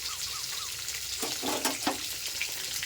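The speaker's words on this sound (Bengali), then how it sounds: "একটু কালো জিরে ফোড়ন দিলাম, আর অল্প একটু তেজপাতাও দিয়ে দিলাম।" Nigella seeds and a bay leaf tempering in hot oil for a Bengali lunch dish, giving a close, steady hiss with a cluster of sharper crackles and pops partway through.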